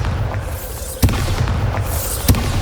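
Bombarda explosion spell in Hogwarts Legacy, two sharp booming blasts about a second apart, each a sudden loud thump with a crackling tail, over a steady game ambience.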